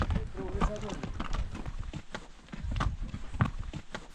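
Horse hooves clip-clop along a high mountain trail near the Ausangate lakes in Peru, an uneven series of soft nearby thuds, with someone talking over them.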